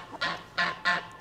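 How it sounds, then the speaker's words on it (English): Three loud, harsh geese honks close by, evenly spaced about a third of a second apart, with no talking over them; farmyard geese that follow people expecting to be fed. "So geese, obviously,"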